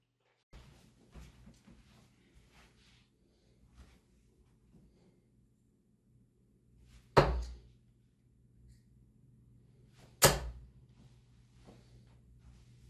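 Target Dimitri Van Den Bergh darts thud into a dartboard, two sharp, loud impacts a few seconds apart, with faint room noise and small knocks between.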